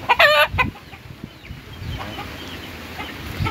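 Chickens cluck loudly at the start, with a rising call near the mic, then softer clucks and chick peeps continue over steady rain-like outdoor noise.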